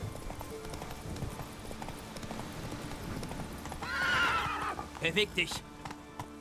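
A horse in The Witcher 3 clip-clops along at a steady pace, then lets out a clear whinny and snorts near the end, heard under someone talking in German.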